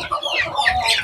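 Desi chickens on a country farm give a quick burst of close, overlapping clucks and chirpy calls, lively and fairly loud, with no talking.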